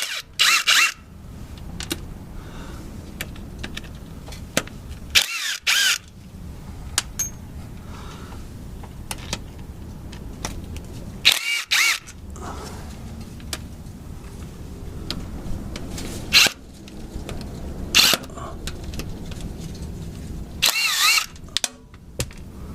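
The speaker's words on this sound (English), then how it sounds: "I will use a ratchet, just so I don't smash and over torque the bolts" Ratchet work on a 2nd gen Dodge Cummins around the rear main seal housing, with repeated bursts of fast clicking as bolts are backed out, separated by quieter shop background and small metallic handling noises.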